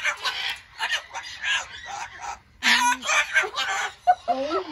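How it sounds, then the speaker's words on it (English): Umbrella cockatoos at a parrot sanctuary give loud, harsh squawks and screeches in repeated bursts, close by, with a few short chatty calls near the end. "These are our crazy umbrella cockatoos."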